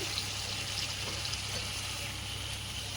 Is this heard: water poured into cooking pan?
yes